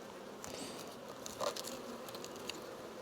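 Honey bees buzz around an opened hive during a beekeeping split check, a faint, continuous insect drone with a few brief louder swells and no voices.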